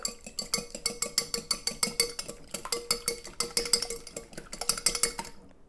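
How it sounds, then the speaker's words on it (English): A whisk beats two large eggs in a bowl for custard, making a steady, rapid run of metallic clicks and clinks that is close and unbroken by talk. "So we're going to start with 2 eggs. Those are 2 large eggs. You're going to whisk them."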